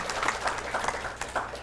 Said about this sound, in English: And yeah, y'all can clap for that.